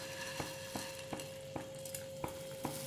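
Roasted vermicelli is tipped into a pan for semiya biryani and settles into the hot liquid with soft sizzling and gentle stirring scrapes. About seven light regular knocks punctuate a steady low hum.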